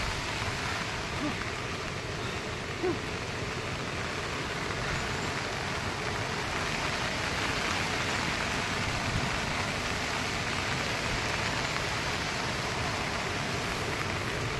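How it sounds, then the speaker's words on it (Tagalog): Rain falls nonstop in a steady, even broadband hiss, an unbroken downpour that has continued since the night before, with no voices heard. "Walang tigil yung ulan, no? Kagabi pa."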